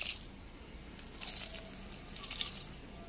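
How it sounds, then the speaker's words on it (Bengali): Rice-soaking water splashes onto potted garden plants in a few soft bursts, a faint pour and trickle heard alone without talk. "ভাবলাম চাল ভেজানো জলটা একটু দিয়ে দিই"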